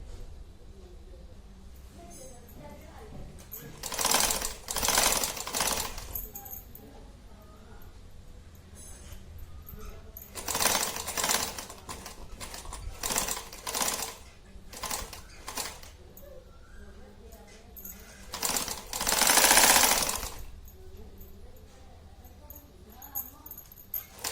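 A sewing machine stitches a zip onto cloth for a handmade clutch purse in several short rattling bursts between quiet pauses, with someone talking in the gaps.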